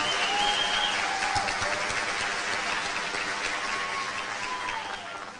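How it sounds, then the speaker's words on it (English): Sustained, loud applause from a graduation commencement audience, dense clapping holding steady for several seconds before easing slightly at the end, with faint cheers and whistles mixed in. "a very loud round of applause"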